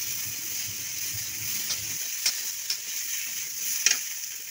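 Soybean chunks sizzle steadily in a hot pan, a continuous bright frying hiss with a few sharp clicks and scrapes of a utensil near the end.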